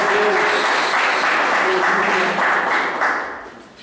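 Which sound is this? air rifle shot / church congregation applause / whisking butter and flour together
church congregation applause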